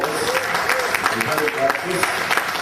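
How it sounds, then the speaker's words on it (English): Steady clapping from a crowd, dense and continuous, with a few voices mixed in over the patter. "Give him a nice round of applause"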